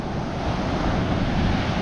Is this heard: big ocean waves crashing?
yes